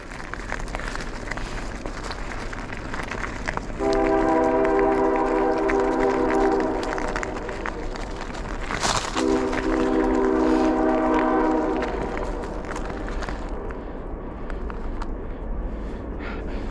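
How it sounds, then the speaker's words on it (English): A Canadian Pacific train horn blasts in two long, loud sustained sequences as the train passes a road crossing, with steady rumbling rail noise underneath throughout. "So basically they're honking because there's the road crossing."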